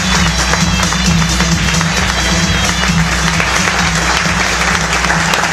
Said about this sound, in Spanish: esta noche tenemos presente un aplauso para Shaila Siad, que se presentó como una solista